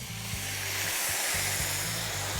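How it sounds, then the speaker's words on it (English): White wine hitting a hot pan just after veal has been seared: a steady, loud broadband hiss and sizzle runs throughout, close up, with a low hum underneath and no talking. "deglaze the pan with some white wine"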